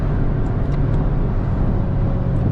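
A Maserati Levante engine drones loudly and steadily from inside the cabin during a downshift into third gear, a dense, constant roar with road noise and no talking.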